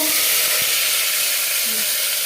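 Marinated fish dropped into hot mustard oil gives a steady, loud sizzling hiss that holds evenly throughout, with a faint brief clink early on and no voices.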